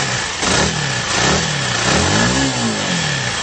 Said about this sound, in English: Simple ignition start.